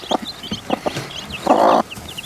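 A hen clucks in short, uneven bursts, then lets out a longer, louder squawk before settling back to quieter clucks nearby.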